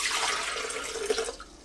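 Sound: water poured into Breville blender jug

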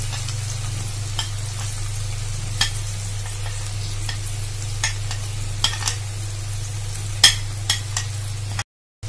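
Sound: ginger and garlic paste frying in pan

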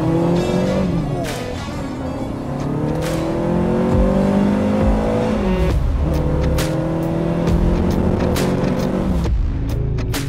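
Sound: TVR Cerbera engine accelerating

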